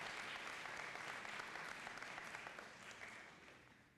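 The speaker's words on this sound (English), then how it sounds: "Let's give these students a round of applause for their entry in the Fine Arts Festival at SC4" Audience applause for students at a high school Fine Arts Festival, a steady dense wash of many hands clapping at moderate distance for about four seconds, tapering slightly toward the end with no talk over it.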